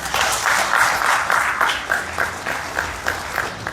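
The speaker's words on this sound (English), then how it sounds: "But please give her a round of applause." An audience at a police community-policing and law enforcement course closing ceremony gives sustained applause, many hands clapping together, fairly loud and steady throughout, with no talking.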